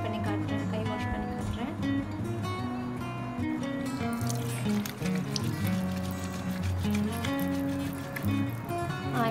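Hands are washed with homemade coconut oil soap under running water, giving a close, continuous splashing and squishing lather with bits of background music or voice beneath.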